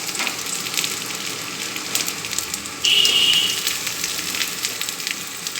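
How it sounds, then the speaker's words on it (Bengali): Potatoes and okra crackle in hot oil in a pan for a vegetarian okra and potato curry: a steady, close, rain-like sizzle with a brief louder hiss partway through. "এইরকম খুব ভালো করে যখন ভাজা হয়ে যাবে আলু, তখন ঢেঁড়সগুলো দিয়ে ভাজতে হবে"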